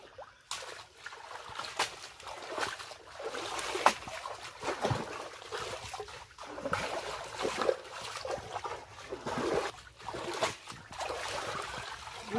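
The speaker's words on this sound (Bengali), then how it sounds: "ড্রেন দিয়ে জল বেরিয়ে যাচ্ছে" Water drains from a muddy paddy field through a drain, a faint, steady trickle and gurgle outdoors with small splashes and shifting swells.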